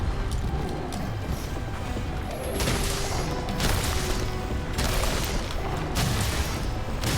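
Heavy bowgun shots in Monster Hunter World during a monster fight, dense booming blasts and crashes over loud battle noise and game effects, no talking.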